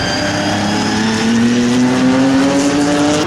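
GT racing cars, including a BMW M3 GTR, run together at the Brands Hatch GP circuit during a Britcar race. A loud, close engine note holds and climbs steadily in pitch as the cars press on.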